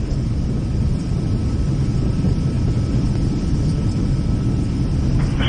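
Boeing 767 on landing in the X-Plane 11 flight simulator, engines in reverse thrust making a loud, steady low-pitched roar and rumble that holds constant throughout with no voices.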